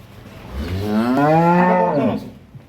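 A single drawn-out moo from a cow, rising and falling in pitch over a couple of seconds, close and clear with no voices.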